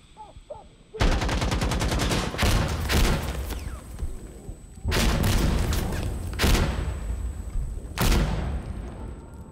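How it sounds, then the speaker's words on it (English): Heavy gunfire and explosive blasts in the shooter game Insurgency Sandstorm, with a long rapid burst of automatic fire, then a second loud barrage and a booming detonation, dense and close, no voices. "Say there's a grenade somewhere. I'm just waiting for it to go off."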